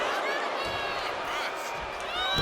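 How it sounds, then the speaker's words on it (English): A dense arena crowd roars and cheers continuously in a WWE 2K25 women's wrestling match, a steady wash of noise that swells louder toward the end with no commentary over it. "Michelle McCool is firing up the crowd here"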